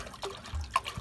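Short splashes and drips of fresh water being poured for pigeons, close by and brief, with a small gurgle near the end.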